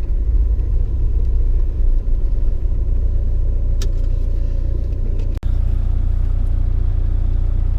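A car rolls onto a weighbridge, its engine a steady close low rumble throughout, with a brief clunk partway through and no talk.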